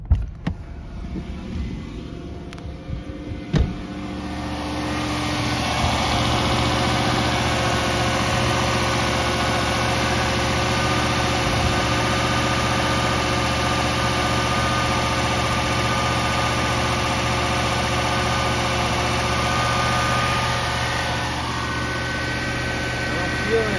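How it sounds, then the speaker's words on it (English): A 2001 Lexus LS430 engine idles at a steady, elevated drone with a constant low hum, after a few brief clicks and knocks at the start. "It's idling pretty high."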